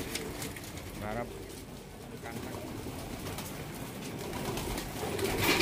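Pigeons coo at feeding time, soft repeated low calls over a steady rustling background, with faint voices in the distance.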